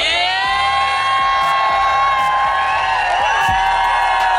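An audience roars and cheers to welcome Gary Vaynerchuk onstage, a loud, dense crowd noise with whoops and shouts held steady throughout.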